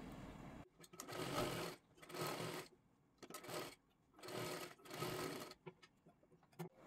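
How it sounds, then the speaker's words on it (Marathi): A sewing machine stitches a second line of a double seam on a princess-cut blouse, running in four or five steady bursts of a few seconds each, close and fairly quiet, with short pauses between. "आता ह्याच्यावरती डबल अजून एक शिलाई मारून घ्यायची आहे।"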